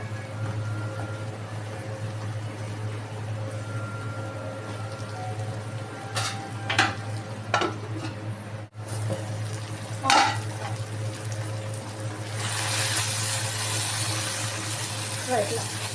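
Tamarind leaf mixture cooks in a kadai with a faint, steady sizzle and occasional scraping stirs, under a constant low hum from a cooler, with someone talking nearby.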